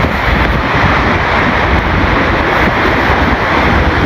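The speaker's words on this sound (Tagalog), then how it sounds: "Malamig pa ang simoy ng hangin." Loud, constant wind buffets the microphone, a dense unbroken roar with no pauses and no voices.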